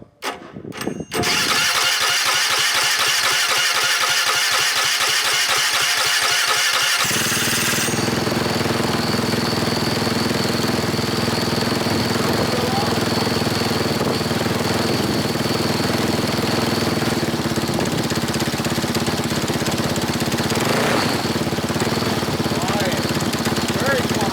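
A paramotor engine cranks with a rapid rattling start, then catches and runs steadily and loudly for the rest of the stretch, with a voice briefly speaking over it near the start.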